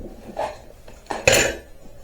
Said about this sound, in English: we're just going to take the rest of this out with the chisel